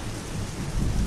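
Steady rain with low rumbling thunder swelling toward the end, a dense continuous wash with no voices.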